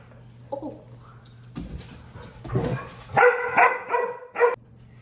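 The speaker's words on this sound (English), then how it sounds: "Hold on, dogs again." Dogs bark several times in a loud burst, with whimpers and yips earlier and some rustling and jangling in between.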